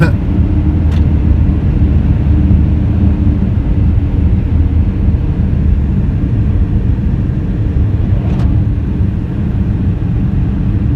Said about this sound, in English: There's a snowplow in front of us.